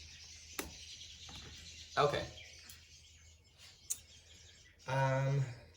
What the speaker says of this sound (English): And now the birds go crazy.